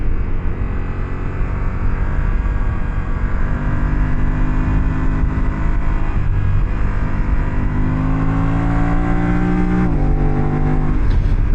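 A 2025 Yamaha Tenere 700 adventure motorcycle pulls hard, its engine rising in pitch and dropping briefly at quick clutchless quickshifter changes, loud and close over steady wind noise.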